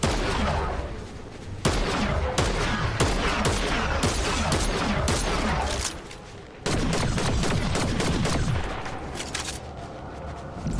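Dense, loud video-game gunfire from Fortnite, with rapid bursts and volleys filling the whole stretch and only brief pauses between them.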